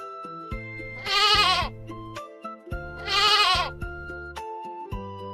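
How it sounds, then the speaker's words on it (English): A goat bleats twice, each a loud wavering cry about a second long, separated by a pause, with light musical notes playing throughout. "A goat says, baa, baa."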